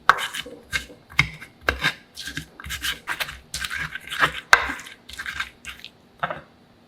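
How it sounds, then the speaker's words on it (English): Ingredients are crushed finely with a pinch of salt while making a smashed egg green chili sauce. Close, irregular pounding and grinding strokes repeat in quick bursts, with short pauses between them. "Add a pinch of salt and then crush them finely."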